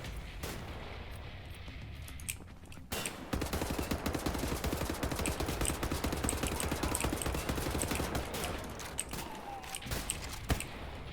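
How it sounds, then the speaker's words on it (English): Enemy gunfire rattles through a Wolfenstein: The New Order firefight, with dense bursts of rapid shots and a few heavier reports following one another at close range, loud and continuous for most of the stretch. "Hold up, stop shooting me."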